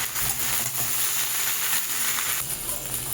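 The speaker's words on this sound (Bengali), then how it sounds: "এইবার আলু বেগুন পেঁয়াজ এই মাছটা সব একসাথে একটু ভালো করে নেড়ে নেব।" Fried potatoes, eggplant, onion and morola fish are stirred together in a hot pan, giving off a steady, close hiss of sizzling oil with soft shifting under it.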